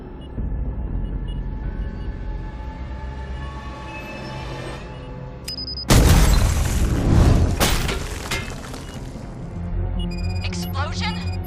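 A sudden loud blast in the RoboCop 2 video game erupts partway through, following a quieter stretch with a droning hum and a brief sharp tone, then settles into a rumbling tail and scattered clinks.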